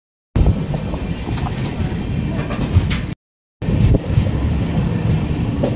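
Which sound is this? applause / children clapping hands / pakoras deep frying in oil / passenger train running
passenger train running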